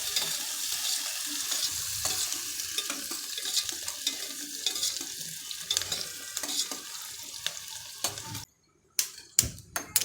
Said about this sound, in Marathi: कांदा चांगला गुलाबी रंगावर परतायचा.